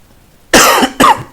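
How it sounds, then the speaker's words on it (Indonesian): Two sharp, close coughs in quick succession, the second briefer than the first, with a quiet pause before them and no talking. "Maaf ya batuk."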